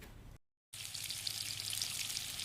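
Potatoes frying in hot oil in a home kitchen, a steady close sizzle that starts after a brief silence and continues evenly, with no talking.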